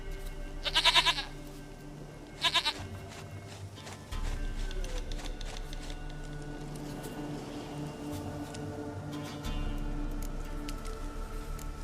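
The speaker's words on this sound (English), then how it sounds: "Goat of mine, dearest, sweetest goat." In The Witcher 3 video game, a goat gives two short, close bleats early on, the first a wavering multi-pulse cry and the second briefer. Quiet game ambience continues afterward, with no speech.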